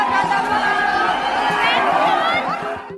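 Dense crowd of stranded train passengers at an Indian railway station, a continuous loud babble of many overlapping voices with shouting throughout.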